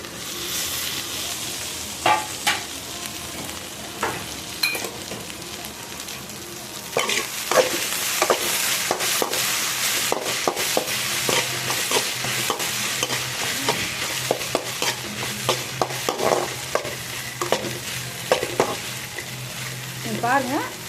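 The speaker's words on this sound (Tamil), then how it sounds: "இப்போ திறந்து நம்ம வதக்கி விட்டுக்கலாம்" Okra fry being sautéed and stirred in a pan, a steady sizzle with repeated scraping stirs and clinks of the spatula, close and continuous throughout.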